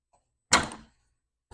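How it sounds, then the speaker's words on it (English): An Omron magnetic safety door lock releases and the guard door to a hazardous area swings open with one close, solid thunk and a short rattling decay, then a faint click follows. "now the magnet releases and we have access into the hazardous area"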